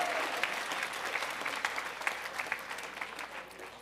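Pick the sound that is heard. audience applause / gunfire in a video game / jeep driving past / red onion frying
audience applause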